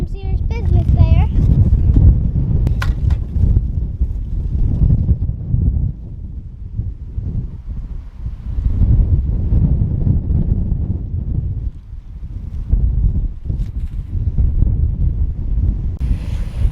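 Wind buffets an outdoor microphone in steady gusty rumbles on a Texas property, with voices talking faintly beneath the roar.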